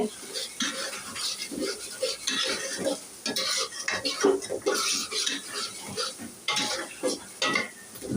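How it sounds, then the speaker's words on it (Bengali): Chicken korma being stirred and sautéed in a pot, with repeated scraping and clinking of a utensil against metal over a steady sizzle, close and fairly loud. "ডাকনা দিয়ে আর একটু কষিয়ে নেই"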